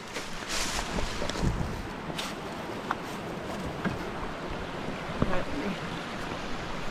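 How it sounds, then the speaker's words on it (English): A small creek and waterfall on a wilderness hike in Shenandoah National Park, giving a steady broadband rush of flowing water with wind buffeting the microphone and a few faint knocks. "A beautiful little creek and waterfall."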